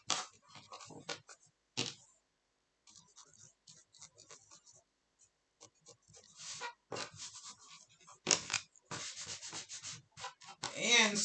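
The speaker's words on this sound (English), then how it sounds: "Use my glue eraser to get some glue squeeze out that came out onto the gold." A glue eraser rubs dried glue squeeze-out off paper with gold trim, quiet scratchy rubbing strokes in short irregular bursts separated by gaps, close and faint.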